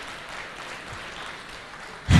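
Audience clapping at a music awards event, a steady broadband patter of many hands held at a moderate level throughout, with a louder burst at the very end.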